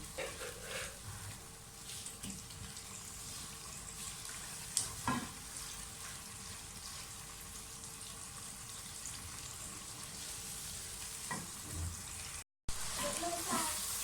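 Masala for a white chickpea curry fries quietly in a pan, a faint continuous sizzle with occasional stirring clinks, heard at low level throughout.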